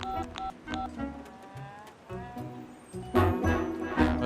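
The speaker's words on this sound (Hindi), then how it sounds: "मुझे एक फोन करना है।" A quick series of telephone keypad tones beeps out as a number is dialed, short bursts spaced unevenly, fairly close and clear.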